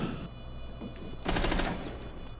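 A burst of rapid automatic gunfire in Rainbow Six Siege during a collegiate esports match, one dense rattling volley of about a third of a second over a quiet background murmur.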